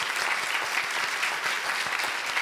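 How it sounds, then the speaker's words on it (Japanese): A school assembly audience gives sustained, dense applause after a primary school's presentation, many hands clapping evenly and continuously at moderate volume, with no voices over it. "皆様、もう一度盛大な拍手をお送りください。"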